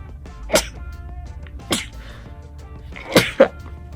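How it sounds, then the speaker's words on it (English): Several sharp sneezes burst out, roughly four in quick succession with short pauses, loud and close. "I gotta sneeze."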